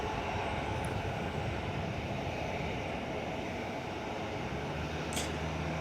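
A Qantas Boeing 777-200 airliner rumbles past at Perth airport, with a steady, loud jet engine roar holding the whole time.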